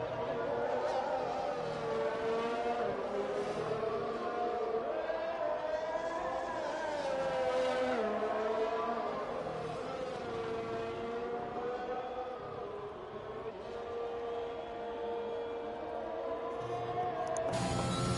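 Onboard racing-sim engine of a Formula-style car on the Spanish Grand Prix circuit, droning steadily throughout with rising and falling harmonic sweeps through gear changes, with a commentator talking over it.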